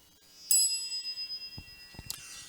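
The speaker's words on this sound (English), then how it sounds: "I have been ordered by my authority to bring this bell wherever I preach" A preacher rings a small hand bell once at a Sunday feast, producing a bright, clear ding with a ringing decay, followed by a few soft knocks and taps.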